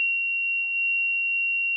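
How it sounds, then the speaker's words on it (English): Buzzer on a Raspberry Pi laser tripwire project sounds as one steady, loud, piercing electronic tone that holds without a break, with no voices. "So I'm just going to save and run this again so I can test that my buzzer's working."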